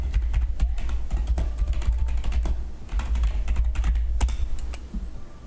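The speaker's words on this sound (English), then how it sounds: "I'm typing and there's nothing on it" Typing on a computer keyboard, with dense, irregular clacking keystrokes in quick bursts and brief pauses, close up and fairly loud, with no talking over it.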